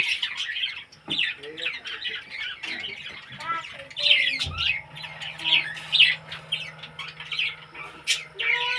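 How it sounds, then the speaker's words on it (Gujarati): Parrots squawk and chatter constantly at a cow shelter, a dense flock of harsh, shrill calls close by, with brief thumps and a low hum beneath. "અહીંયા બધા પોપટ છે તમે જોઈ શકો છો"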